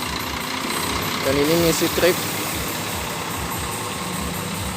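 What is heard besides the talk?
Putra Pelangi bus engine idling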